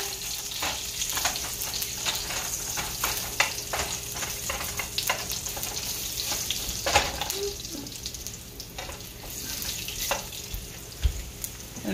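Garlic sautéing in a pan for squid adobo sizzles steadily and up close, a constant frying hiss broken by frequent stirring clicks and scrapes, with no one talking.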